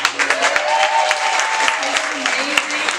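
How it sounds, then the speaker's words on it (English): Applause from guests at a wedding reception, a steady wash of clapping lasting a few seconds with voices and cheering mixed in, fairly close and loud. "Can we get a round of applause?"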